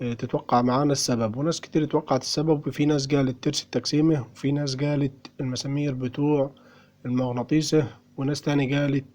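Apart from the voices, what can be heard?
None of the usual background noises is heard.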